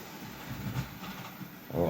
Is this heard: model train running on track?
yes